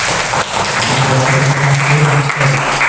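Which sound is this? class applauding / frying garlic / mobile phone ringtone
class applauding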